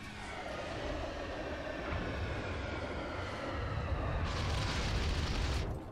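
The Japanese cruiser Aoba fires high-explosive shells in the naval combat game World of Warships, a dense, loud roar of gunfire rumbling continuously with a brighter surge near the end, blended with the game's soundscape.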